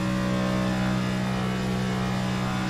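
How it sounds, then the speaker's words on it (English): A stock car engine holds a steady high drone at speed in a NASCAR racing game, a loud, unbroken tonal whine with no voices over it. "Car sounds like it's a little faster. Engine has a little higher pitch."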